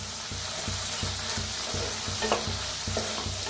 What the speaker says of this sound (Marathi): मीठ टाकून भाजूया, हलवून भाजून घ्यायचं